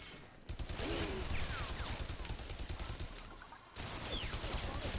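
Sniper gunfire in the shooter video game Bodycount, with repeated sharp shots and dense bursts of firing over a busy, noisy battle backdrop, pausing briefly before the shooting resumes.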